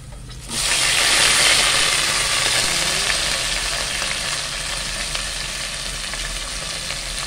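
Vegetables sizzle steadily in a pan while being cooked for Thai noodles with alugbati. The hiss jumps up loudly at the start and then holds an even, continuous frying sound with no talking.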